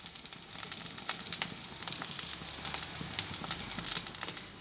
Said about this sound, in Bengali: যুক্তি ফুলগুলোকে একটু ভেজে নিচ্ছি